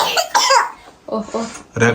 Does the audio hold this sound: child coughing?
yes